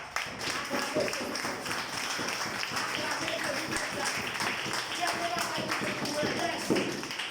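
A church congregation claps together in praise of Jesus, a steady, fairly quiet patter of many hands with murmuring voices mixed in.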